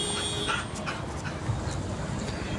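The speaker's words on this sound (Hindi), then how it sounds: "और ये कुत्ता भी है, पता नहीं कहाँ से आता है पीछे से।" A dog somewhere behind a household scene gives soft panting and faint whimpering sounds, steady and close, with no clear barks.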